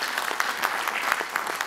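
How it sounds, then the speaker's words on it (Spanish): Warm audience applause fills a concert hall, the Sala Julián Carrillo, as a dense, steady patter of many hands clapping with small irregular peaks, close and sustained throughout. "gracias por el aplauso caluroso de la gente aquí en la sala Julián Carrillo"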